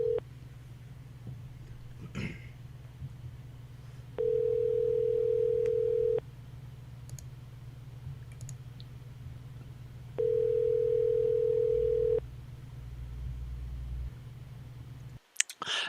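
A phone tone from a recorded call sounds twice as steady two-second beeps, separated by about four seconds of quiet line hiss, with a faint low hum underneath and a click at the end.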